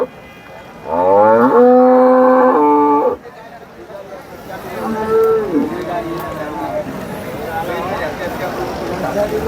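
Jersey dairy cows moo at a cattle market: one loud, close, drawn-out moo, then a second fainter call amid crowd chatter and market noise.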